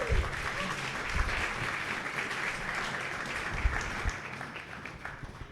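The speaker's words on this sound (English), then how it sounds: "Yeah, round of applause." A round of applause from a live audience at a tech talk on a funding announcement, dense steady clapping that holds evenly for several seconds at a moderate distance.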